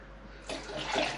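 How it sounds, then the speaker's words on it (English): Cold tap water runs into a Pinter brewing keg, a steady rushing splash that swells louder partway through, close by, with no talking. "The instructions say fill the pinter with cold water from the tap."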